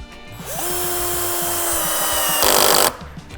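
A Dnipro-M CD-218 cordless drill on first speed drives a large screw, its motor whining up to a steady pitch for a few seconds, then straining louder near the end before stopping; close and alone.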